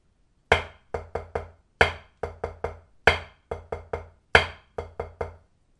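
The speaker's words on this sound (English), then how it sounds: "So in the case of a flam accent, that'll sound like this." Sharp drum strokes playing the flam accent rudiment: a heavy grace-noted accent followed by three lighter taps, four groups, crisp and close with no talk.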